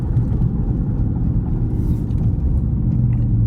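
A 2019 Dodge Charger R/T in track mode rumbles with a deep, steady low engine drone, heard close and fairly loud from inside the car without any talking.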